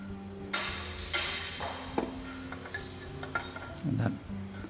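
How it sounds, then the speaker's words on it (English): Hammer blows drive a bearing up a stub shaft with a hook or C-spanner, several sharp metallic strikes, two loud ones early then lighter taps, close by in a quiet workshop. "Use the hook or C-spanner and a hammer and drive that up"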